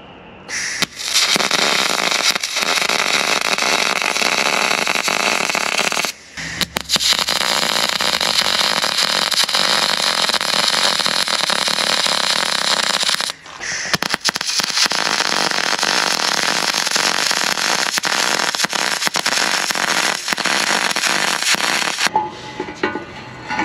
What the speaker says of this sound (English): now let's get this muffler tacked on